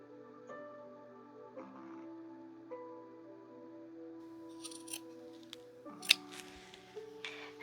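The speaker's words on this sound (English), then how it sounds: "Now it's time to just cut your fabric." Scissors cut fabric for a fishtail mermaid skirt with a series of quiet crisp snips and rustles over a faint background hum.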